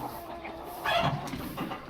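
Black country chickens on a free-range native poultry farm in Dharmapuri cluck softly at close range, a couple of short bursts over low farmyard background noise.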